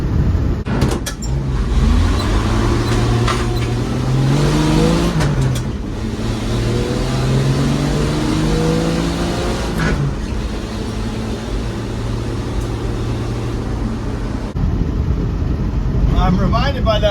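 A 1967 Dodge banana van with a three-on-the-tree column shift revs hard through burnouts, engine pitch climbing and falling in repeated surges with tire noise, loud and close, with people talking over it.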